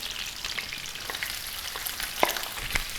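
Boiled minced meat sizzles steadily in a hot pan while being cooked for keema vegetable macaroni, with a few scraping stirs and small clicks; no one speaks.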